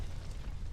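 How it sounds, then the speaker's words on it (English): An explosion in the video game Aviary Attorney sounds as a low, rumbling boom with a dull crackling tail, heard alone and fairly faint. "An explosion."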